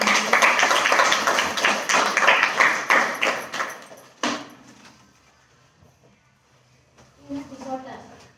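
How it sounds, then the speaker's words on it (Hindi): Audience applause at a New Year program, a dense burst of clapping that fills the first four seconds and then cuts off abruptly, leaving quiet room noise and a brief voice near the end. "आप लोग जोरदार ताली"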